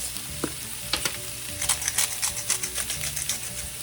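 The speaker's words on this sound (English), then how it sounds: "I'm gonna let that kind of saute together." Red onion sautéing in a pan, a soft sizzle with several sharp clicks and scrapes of a utensil stirring, close and fairly quiet.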